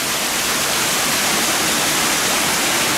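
Creek water flows steadily past the old Leura sewerage works, a loud, unbroken broadband rush close by with no voices.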